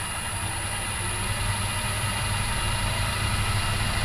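A Myford lathe's motor runs on an inverter in a home workshop, giving a steady, even hum and whir with a constant broadband drone and no change in pitch, fairly quiet, with no speech.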